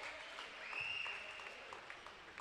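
Crowd at a basketball game applauds after a made free throw, a steady wash of clapping and cheering from many people filling the arena, with a few whistles rising above it.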